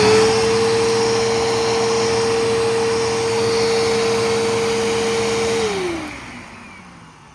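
A Bissell Cleanview PowerTrak Plus upright vacuum with worn brush-roll and motor bearings drones steadily and loudly at a constant pitch for several seconds, then its motor winds down as it is switched off.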